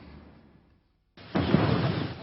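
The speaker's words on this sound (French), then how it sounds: "21 coups de canon" A ceremonial 21-gun cannon salute at the presidential palace in New Delhi: after a quiet lull, a single heavy boom hits and rolls into a loud, lingering rumble.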